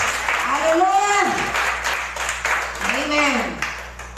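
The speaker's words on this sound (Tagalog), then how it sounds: "Pumalakpak po ang buhay sa Diyos." Worship service congregation in church clapping together, a steady wash of applause running under a preacher's voice.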